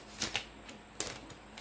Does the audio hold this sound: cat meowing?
no